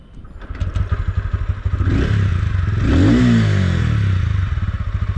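TVS Ronin 225 cc motorcycle engine while riding, a steady rhythmic thrum that swells into a loud rev around the middle and settles back to a throbbing idle-like pulse, close and continuous with no talk.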